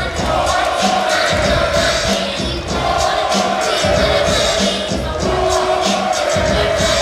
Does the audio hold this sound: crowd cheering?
yes